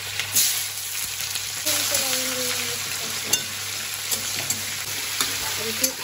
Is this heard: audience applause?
no